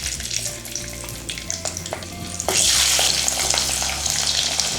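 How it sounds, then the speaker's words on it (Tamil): Garlic frying in a pan of hot oil for a Sankara fish curry gives a steady, close sizzle, with a few stirring clatters early on. The frying swells sharply louder halfway through as more goes into the pan. "நம்ம வெங்காயம், பூண்டு இது ரெண்டுத்தையும் சேர்த்து வதக்கிக்கலாம்."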